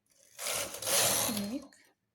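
A hand-operated knitting machine runs stitches for newborn-size woolen stockings, one short close whirring carriage pass rising and fading over about a second and a half, with no voice.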